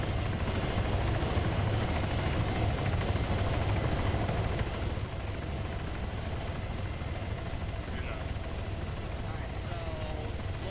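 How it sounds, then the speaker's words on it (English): Mi-8 helicopter in the Arma military video game, a steady loud rotor thrum and engine drone running continuously at close range, with voices talking over it. "So look at the helicopter towards the back over here."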